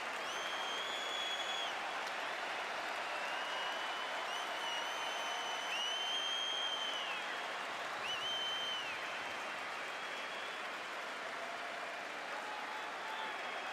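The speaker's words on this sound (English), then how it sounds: "Even Melbourne City fans down their end applauding Juan Mata." A football crowd at a Melbourne City versus Victory match gives sustained applause to a player, a broad steady wash of clapping heard from a distance under a commentator's voice.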